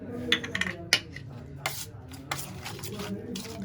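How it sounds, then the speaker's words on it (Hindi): A spoon scrapes and clinks against a bowl while stirring a chicken tikka spice paste, giving several sharp taps then steady gritty mixing, close and fairly loud. "ये देखिए मैंने अच्छी तरीके से चम्मच से पेस्ट बना ली है, तमाम चीज़ें मिक्स कर ली हैं।"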